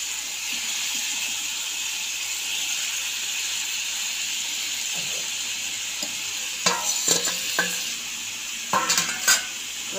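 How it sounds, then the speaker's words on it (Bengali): Eggplant pieces drop one by one into hot oil in a pan, sizzling steadily beneath a few sharp clinks and scrapes of utensil against the pan, with no talking. "বেগুনগুলো দিয়ে দিচ্ছি এক এক করে।"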